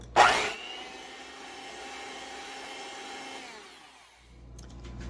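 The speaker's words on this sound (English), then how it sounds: "we'll mix this on medium speed until all the ingredients are combined" An electric mixer on medium speed beats vegan lemon cookie dough, starting with a sharp burst, then a steady close motor whine that winds down after about four seconds.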